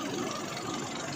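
Steady idling of an Isuzu Mu-X 4JJ3 diesel engine during coolant bleeding, with a dense, continuous rumble and faint knocking texture, constant in level throughout.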